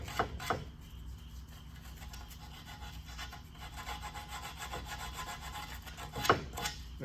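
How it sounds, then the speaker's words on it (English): Sandpaper rubbing the mating edges of a pot metal or aluminum part from a 50-year-old pedal tractor, a quiet, continuous scratchy rasp of back-and-forth strokes with a couple of sharper scuffs near the start and end. "I want to hit this with some sandpaper on the edges that mate, just so they're smoothed down, scuffed up."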